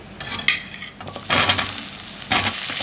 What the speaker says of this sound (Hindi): इनको अच्छे से मिक्स करेंगे